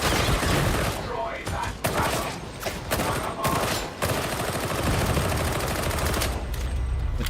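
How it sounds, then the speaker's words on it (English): Auto pistol fire in Skitarii, rapid dense shots blending into a continuous loud rattle with brief dips, set among other game noise and what may be a voice underneath. "you can make the auto pistol shoot things far away, like, very effectively with this ability"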